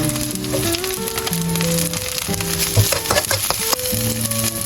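Onion, garlic and ginger sizzle in hot oil with a steady crackling hiss, partly masked by louder background music playing throughout.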